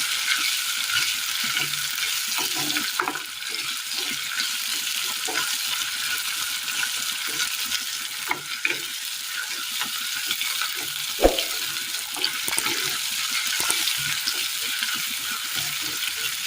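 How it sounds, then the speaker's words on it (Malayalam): Onions fried to golden in oil, with chopped tomato added, for a Kerala curry make a dense, continuous sizzle close by, broken by occasional stirring scrapes and one sharp knock partway through, with no voices. "ഈ സമയം ഇതിലേക്ക് തക്കാളി അരിഞ്ഞത് ചേർത്ത് കൊടുക്കാം."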